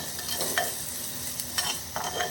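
Tomatoes and onions softening in oil in a pan for an anchovy fish curry, a steady close sizzle with scattered scraping stir strokes and small pops, no voices.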